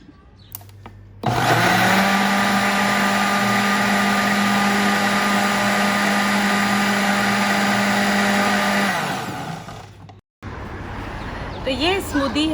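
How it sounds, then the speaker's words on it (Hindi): A blender whirs loudly and steadily for about eight seconds, blending a mint, apple and cucumber smoothie, then winds down and stops before a voice speaks. "तो चलें हम जो है इसको मैं ब्लेंड कर देती हूँ।"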